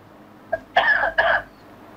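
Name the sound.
loud cough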